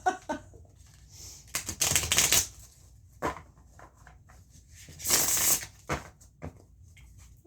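Bursts of tarot cards being shuffled, a few quick riffles and crisp flicks separated by short pauses, close up with no talking.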